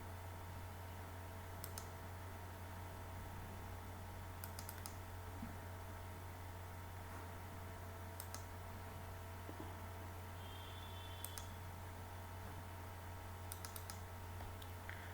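Sharp mouse clicks sound a handful of times at irregular intervals, close and brief, over a steady background hum with faint keyboard-like ticking.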